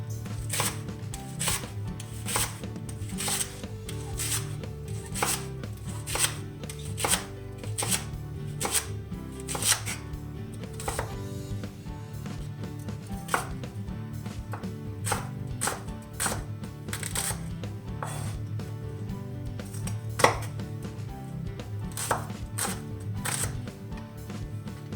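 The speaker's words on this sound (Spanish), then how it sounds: "Picamos el puerro." A knife chops leek on a cutting board in a home kitchen for a vegan roasted piquillo pepper sauce, with a steady run of crisp, close, evenly spaced cuts and brief pauses, no talking.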